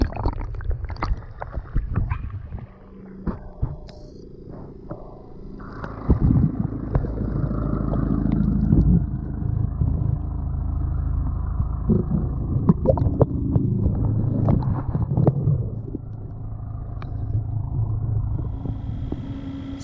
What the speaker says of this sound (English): So as you can hear over the back in the lake, a few of the ski boats have started to turn up.